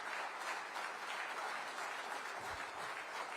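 Steady, sustained audience applause at a defence event welcoming the Indian Army's Chief of Army Staff, dense clapping throughout at moderate loudness.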